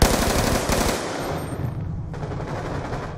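Rapid automatic gunfire rattles in Call of Duty Black Ops 2 multiplayer, a continuous stream of loud, close shots that eases slightly partway through, with no voices over it.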